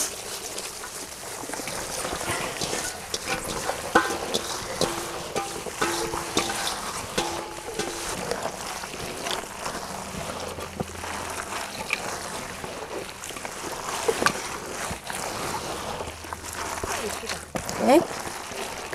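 Mustard greens, napa cabbage, water parsley and scallions are poured and tossed into a kimchi filling, giving a continuous wet rustling and squelching close by, with a person talking over it.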